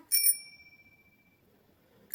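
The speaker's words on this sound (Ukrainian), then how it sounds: "дзвоник на велосипеді" A bicycle bell gives a quick double ring, bright and close, its metallic tone fading out over a second in otherwise quiet surroundings.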